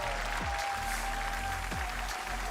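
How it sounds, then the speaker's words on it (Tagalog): Esports tournament crowd applauding at a Counter-Strike Pro League grand final, a steady wash of clapping and cheering that fills the whole stretch at moderate loudness with no voices on top. "Guys, give it up, Astralis and Hooksy!"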